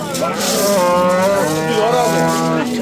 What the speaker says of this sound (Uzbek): Yaxshi sigir bo'ladi.